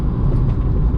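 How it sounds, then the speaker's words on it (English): Interior rumble of a car driving through thick wildfire smoke in California, a steady low drone of engine and road noise with no talking. "I'm gonna shut up so you guys can listen to the car"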